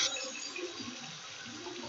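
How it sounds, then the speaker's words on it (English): Hands washed under a running tap, a soft steady trickle and splash of water, fairly faint and continuous throughout, with no talking. "I will wash my hands again"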